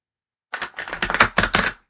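A deck of tarot cards is shuffled in several quick riffling bursts, close and crisp, with brief gaps between the clattering runs.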